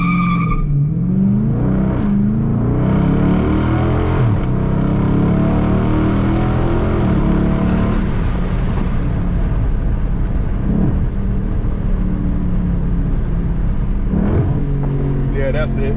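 A Dodge Charger or Challenger with an aftermarket X-pipe or H-pipe exhaust idles loudly, then revs sharply several times. Each throttle blip rises and falls over a deep, rumbling idle, with people speaking nearby.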